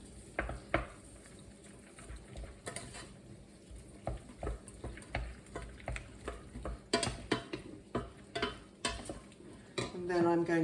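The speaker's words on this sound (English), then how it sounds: "Stir it around." A fried mix stirred in a pan during a camping meal, a run of faint scraping and clinking utensil strokes against the metal over light sizzle, no voices.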